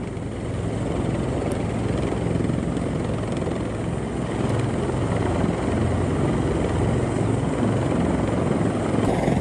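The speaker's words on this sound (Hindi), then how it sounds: "हेलीकॉप्टर से बाढ़ में फंसी महिला का रेस्क्यू।" A rescue helicopter thrums loudly and continuously overhead during a flood rescue, its rotor noise a steady dense roar with no breaks.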